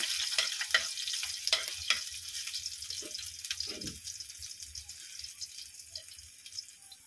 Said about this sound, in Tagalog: Brownin muna natin yung luya guys. Para mas mabango.